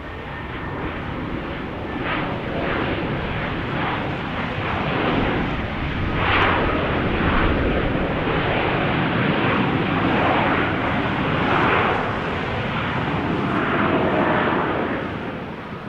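Delta Airbus A321neo airliner on a runway, its jet engine roar steady and loud throughout with rising and falling surges, no talk over it.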